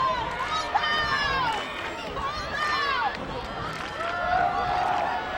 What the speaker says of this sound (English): Crowd trying to get into it here.